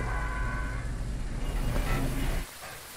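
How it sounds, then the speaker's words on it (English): Steady rain falls in a horror video game, a dense broadband hiss with low rumble that runs continuously and loudly before dropping off sharply near the end, with no talking. "Of course it's raining."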